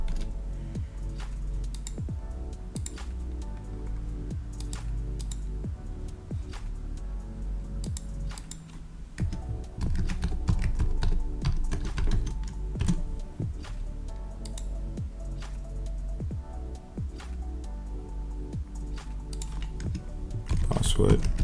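Fingers tap out a password on a computer keyboard, a run of quick, close key clicks in an uneven rhythm, with a voice talking over parts of it.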